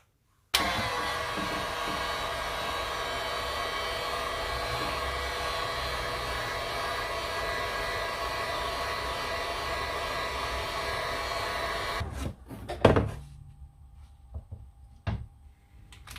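Steady, close blowing whoosh of a heat gun warming vinyl car wrap film to make it pliable, running continuously for about twelve seconds before switching off, followed by brief handling clicks and knocks.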